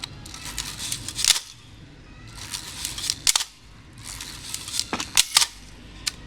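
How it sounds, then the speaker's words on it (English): Bronica S2 medium-format camera, its shutter firing as the winding lever is worked: sharp mechanical clicks and snaps in several clustered bursts with ratcheting winding sounds between, close and fairly quiet. "the shutter fires when it's being wounded"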